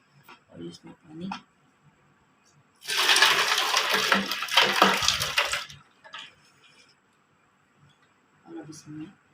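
Water pours steadily into a glass for a summer drink in one continuous rushing stream lasting about three seconds. Softer handling noises come just before and after it, close up.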